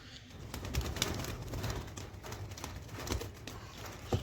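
Andhra high-flying pigeons in a Kolkata loft give soft cooing and light shuffling, with scattered small clicks and taps over a steady, fairly close background hum.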